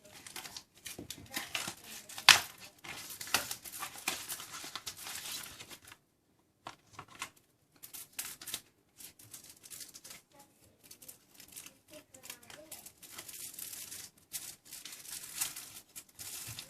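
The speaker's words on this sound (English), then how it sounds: "Quite hard to open. Wish they didn't wrap it in tin foil." Tin foil wrapping is pulled open by hand, heard as close, irregular crinkling and tearing bursts with brief pauses and one sharp crackle early on, fairly quiet and without talk.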